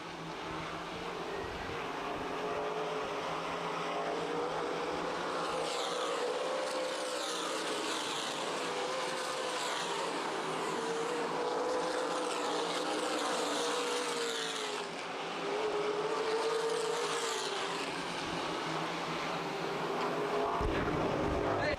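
Race cars circling the track during preliminary events at the 2012 Winchester 400 weekend, a steady loud roar of engines with rising and falling pitch as cars pass, continuous throughout.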